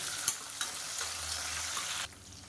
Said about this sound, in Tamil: இப்போ வெங்காயம் பூண்டு எல்லாமே நல்லா இந்த அளவுக்கு வதங்கிடுச்சு